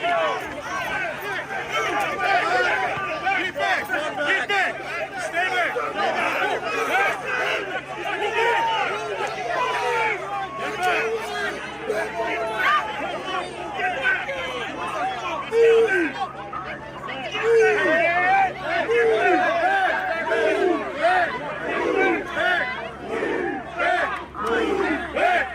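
Protest crowd in Chicago during an ICE raid, loud and sustained: many voices shouting and yelling together in a dense, agitated roar with scattered cries, close by and continuous for the whole stretch.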